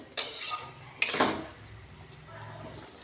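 A metal spoon stirs pointed gourd and shrimp curry in a pan in a village kitchen. Two distinct clanks against the pan are followed by soft, faint scraping, heard close with no talk.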